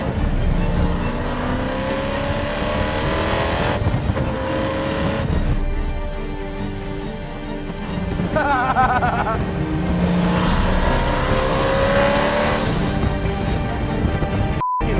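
Hennessey Venom GT twin-turbo sports car engine revving loudly, with repeated rising and falling bursts of throttle and a sustained close-up roar across the whole stretch.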